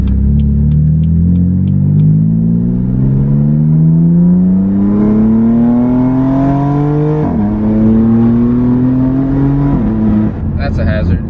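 A BMW F80 M3 with a catless exhaust and single mid pipe, heard from inside while driving, revving hard through a long rising pull, dropping at a shift and climbing again, loud and raspy before backing off.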